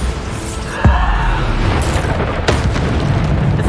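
Bombarda spell explosions in the video game Hogwarts Legacy, loud booming blasts with a sharp crack near the start and another midway over continuous rumbling game noise, with no talk.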